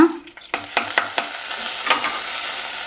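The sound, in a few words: mustard seeds spluttering in hot oil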